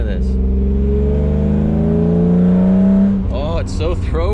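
A BMW E36 M3 fitted with loud headers revs hard from the driver's seat, its throaty engine note climbing steadily for about three seconds before dropping back. A short burst of voice follows near the end.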